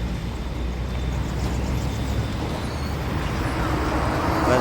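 Tata Sumo pulling away, a steady low engine rumble with broadband road noise from nearby traffic, building slightly toward the end.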